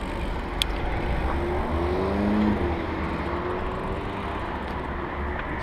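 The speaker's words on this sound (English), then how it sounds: "This car's coming, right." A car nears a road junction while a Brompton folding bicycle fitted with an electric conversion kit waits to turn, its engine a low broad rumble under steady wind noise, with a brief swelling pass in the middle.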